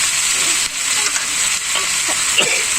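Chicken and potatoes frying together in a pan in a village kitchen, a continuous bright hissing sizzle with soft stirring scrapes near the end, close and unaccompanied by speech.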